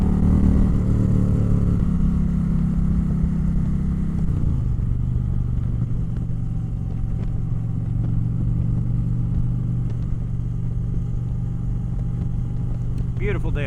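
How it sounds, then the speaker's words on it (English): A 2025 Indian Chieftain Powerplus Dark Horse motorcycle accelerating on an open road, a steady loud engine drone that rises in pitch, then settles into a sustained hum with wind noise. "Little acceleration test"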